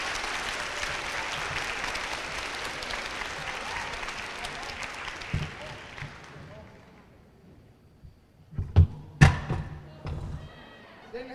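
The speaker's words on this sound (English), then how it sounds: "Give him another round of applause." An audience at an 8th grade awards presentation claps for an award recipient, with loud sustained applause that fades out. Thuds and knocks follow, along with some voices.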